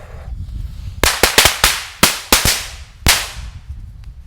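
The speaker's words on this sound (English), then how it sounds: "when I lit it, I hit one of the firecracker fuses, so it went off a lot faster than it should have" A cluster of titanium-flash firecrackers, set off faster than intended by a lit fuse, bursts outdoors in about eight sharp, loud cracks in rapid irregular succession, each followed by a short echoing tail.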